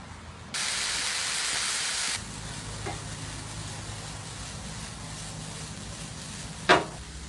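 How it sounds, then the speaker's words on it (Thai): A loud sizzling burst of cabbage, carrot and shiitake mushrooms hitting a hot pan for a couple of seconds, then quieter dry stir-frying without water, with a brief scrape near the end. "ผัดแบบแห้งๆนะครับ น้ำไม่ต้องใส่"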